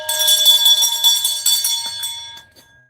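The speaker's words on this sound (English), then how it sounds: "Let's ring the bell. And my other bell." A bell rings repeatedly in quick strikes, bright and metallic with long ringing overtones, loud and close, then fades out over the final second.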